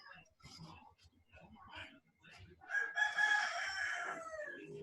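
A rooster crows loudly once, its long strained call rising over scattered quieter talk nearby during an online class.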